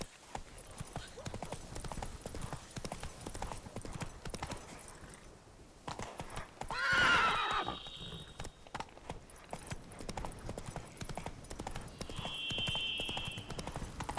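Steady clip-clop of the horse Roach galloping in The Witcher 3, a continuous rhythmic hoofbeat throughout, with a brief whinny-like cry midway.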